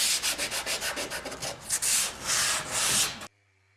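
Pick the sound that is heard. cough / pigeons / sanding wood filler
sanding wood filler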